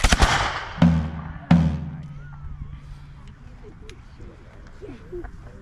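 Flintlock muskets fired in a volley at Fort Dobbs, North Carolina, in a French and Indian War reenactment: three sharp booming shots, staggered within about a second and a half, each trailing off into an outdoor echo before quiet settles.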